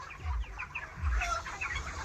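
Chickens on a village poultry farm make a busy chorus of overlapping clucks and chirps, with low thumps underneath and no pauses.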